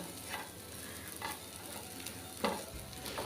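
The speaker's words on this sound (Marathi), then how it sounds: "एकदा आपण चमचा म्हणजे फिरवून बघायचा जेणेकरून ही गाबोळी आहे ही पॅनला लागू नये" Metal spoon stirring fish roe (gaboli) in a frying pan, a steady low sizzle with a few soft scraping sweeps of the spoon, faint and close, without talk.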